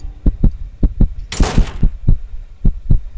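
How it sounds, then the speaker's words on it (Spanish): A heartbeat in the horror video game Misfiction, a steady series of deep, close thumps in paired beats, with a brief burst of hissing noise over the middle. "No manches, esos son mis latidos"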